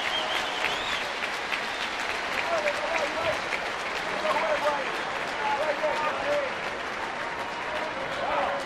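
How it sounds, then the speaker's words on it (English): Baseball crowd at a Cardinals game applauding catcher Yadier Molina, a steady, sustained wash of clapping and cheering from a large stadium audience, with a few whistles rising above the roar. "the fans can give a round of applause to Yadi"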